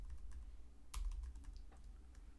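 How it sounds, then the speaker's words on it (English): Quick, light keystrokes on a computer keyboard as code is typed, a soft steady patter with one firmer tap, close but faint over low room hum. "I could go and copy the code, but it's almost as fast to type it."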